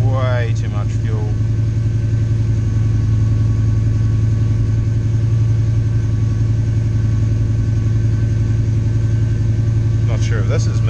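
A CF Bedford van's carburetted engine idles with a steady, loud, low rumble that holds unchanged throughout, with brief voices near the start and end.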